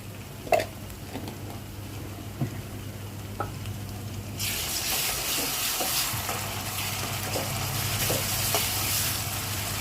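Ginger garlic paste fries with onions for mutton keema curry. A few stirring taps come first, then the sizzle suddenly swells into a loud, steady, close hiss that lasts to the end.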